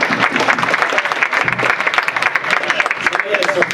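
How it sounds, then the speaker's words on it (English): Dense audience applause fills a fan convention panel for the Power Rangers In Space cast, a steady wash of many hands clapping close and loud throughout, with voices mixed in. "So I want to give you guys a round of applause."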